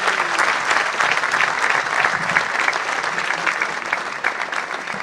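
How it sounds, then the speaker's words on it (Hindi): Loud, dense applause from a large audience at the opening of a national medical conference in Ahmedabad, steady and sustained throughout without letting up. "मित्रों, जोरदार तालियों से"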